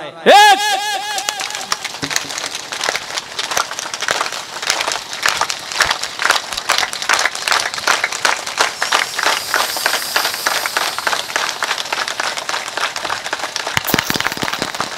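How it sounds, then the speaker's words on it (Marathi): An audience at a devotional kirtan claps hands in a steady, fast rhythm without cymbals or drum, loud and sustained, with a voice singing or talking over the beat. "माझ्या मागं टाळ वाजणार नाही पखवाज वाजणार नाही फक्त आणि फक्त टाळी वाजणार आहे"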